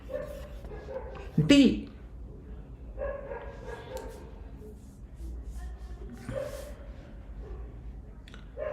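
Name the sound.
dog barking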